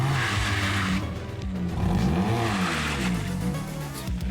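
A homemade Quadra V-Tech replica car from Cyberpunk 2077 drives along a road, its motor holding a steady drone with some rising and falling pitch as it moves, fairly close and loud throughout.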